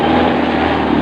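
A Honda Beat FI scooter engine is revved hard but sputters and misfires, giving a loud, rough, continuous buzzing drone close by for about a second.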